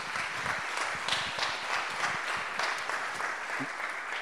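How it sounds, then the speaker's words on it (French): An audience breaks into sustained applause to welcome a speaker at a conference on recycled plastic and construction in Paris, a dense, steady roar of many hands clapping for the whole stretch. "que je vous prie d'accueillir sous un tonnerre d'applaudissements"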